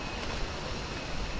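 Waterfall in a valley in Bali, a dense, steady rushing roar of falling water filling the whole sound close by, with no voices.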